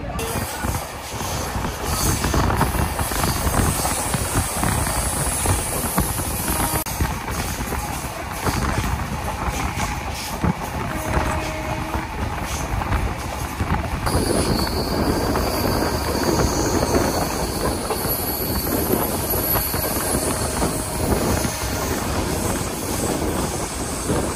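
Yoga Express passenger train between Ahmedabad and Haridwar in Gujarat, heard from on board as a steady loud rumble of wheels and carriage noise with rattling and occasional squeal, continuous throughout.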